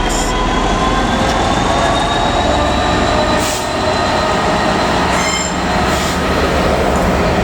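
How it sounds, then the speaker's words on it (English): A freight train hauled by locomotive 66786 rolls past at Leeds, a loud continuous rumble of wheels on rail with squealing tones and occasional clicks running steadily throughout, with no talking. "our first freight train of the day"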